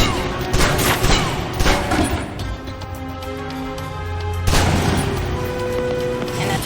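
Submachine gun fire in the video game Alpha Protocol during a close-quarters weapons orientation, dense rapid bursts up close that break off midway under a low tonal hum, then resume.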